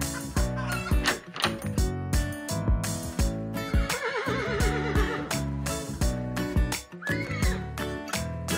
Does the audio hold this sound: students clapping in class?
no